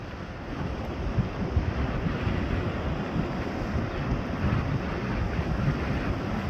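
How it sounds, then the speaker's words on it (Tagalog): Big ocean waves rolling in at Shellharbour beach in New South Wales, Australia, heard as a steady, loud, broadband surf roar mixed with wind buffeting the microphone, continuous throughout with no voices. "Malaki alon to."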